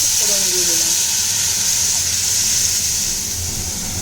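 Lentils (dal) drop into hot oil in a home kitchen pan, giving a loud, steady sizzle and hiss that fades slightly toward the end.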